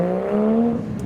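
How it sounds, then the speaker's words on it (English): Modified Toyota Chaser JZX100 and Honda CRX pulling away from a car show, a brief rising engine note heard from nearby. "They have a chaser along with the Honda CRX giving some beeps and sounds, so we'll film them depart"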